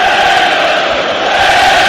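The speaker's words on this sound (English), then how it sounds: "The Liverpool crowd playing their part too." Dense, roaring Liverpool football crowd inside the stadium during the Barcelona v Liverpool match, a loud continuous wall of chanting and cheering that stays steady throughout.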